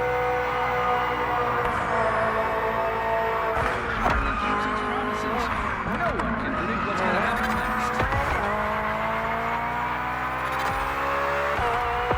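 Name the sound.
BMW M Hybrid V8 race car in The Crew Motorfest video game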